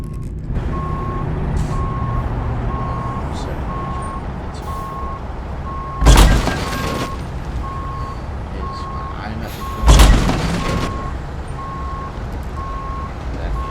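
A truck reversing in American Truck Simulator, its backup alarm beeping in an even, steady rhythm throughout over a low idling engine, with two loud bursts of air release partway through.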